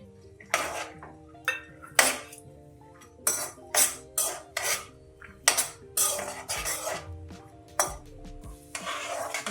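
A utensil scrapes and stirs almonds and peanuts roasting in hot oil in a pan, giving repeated rhythmic clinks and scrapes against the metal over a faint sizzle, close up with no talking.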